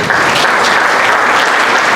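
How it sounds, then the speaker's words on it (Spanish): Audience applause for a doctor at a medical forum on rare diseases, loud continuous clapping filling the room without a break. "Un aplauso para la doctora."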